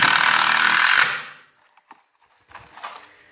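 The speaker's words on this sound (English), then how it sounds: "we're just drilling everything together." A loud, close whirring drill bores into wood while building a workbench for about a second, then winds down, followed by a few light knocks and clatters.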